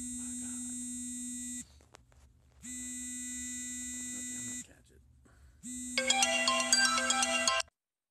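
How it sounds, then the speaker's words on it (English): An electronic phone ringtone sounds in three bursts separated by short pauses, the last burst busier and louder, close and clear. "Oh man, my phone's ringing."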